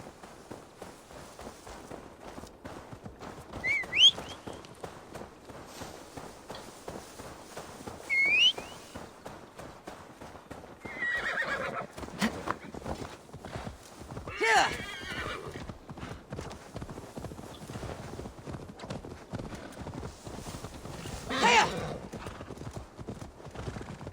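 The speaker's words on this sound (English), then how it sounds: "Now to deliver Magni his horse." Horse hooves clip-clop steadily through a ride in the Viking-era video game Assassin's Creed Valhalla, with occasional neighs and whinnies cutting in over the continuous trotting rhythm.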